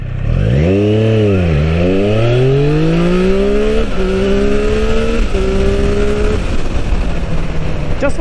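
A Triumph Street Triple Moto2 motorcycle accelerates hard, rising pitch broken by several quick, seamless quick-shifter gear changes, loud and close, then holding a steady high drone.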